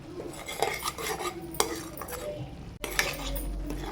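Eggs being stirred into thick masala in a pot for egg dum biryani, with a spoon scraping and knocking against the metal sides in short uneven strokes, close and fairly quiet, a brief pause partway through.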